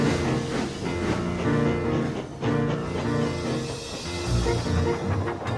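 A steam locomotive rumbles and clatters as it pulls out, with rhythmic chugging and hissing over a steady low mechanical drone, in a Trainz simulation.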